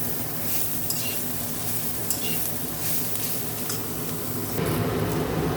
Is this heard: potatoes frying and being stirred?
yes